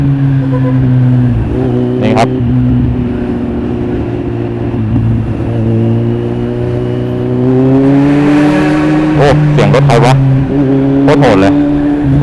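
A Kawasaki Z800 motorcycle engine idles loudly up close, then revs up in rising bursts before settling back, with a sharp pop or two.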